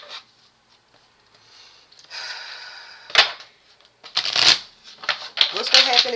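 Tarot cards being shuffled by hand at a table: several quick riffling bursts, near and crisp, separated by short pauses, with a voice talking around them.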